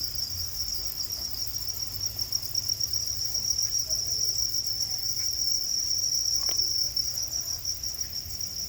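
Crickets chirp in a breeding container covered with a stainless steel mesh lid, a steady high, trilling chorus that continues without pause, fairly soft and close, with faint scattered background noises.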